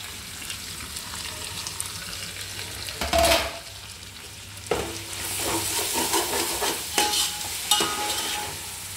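Mint and coriander frying with ginger garlic in oil for pulav, a soft steady sizzle that swells as the greens are stirred, with a few louder scraping bursts and no voices.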